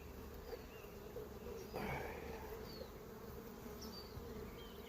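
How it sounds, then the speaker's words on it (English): Honey bees buzz around an open hive during an inspection, a faint, steady hum with individual insects droning close past now and then. "Oh, the bees are trying to care for them."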